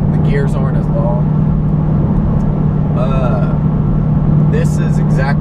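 A 2015 Ford Mustang GT with Ford Racing sport exhaust and performance-pack 3.73 gearing cruises in sixth gear at 75 mph, around 2,250 rpm, giving a steady low droning hum, with talk over it.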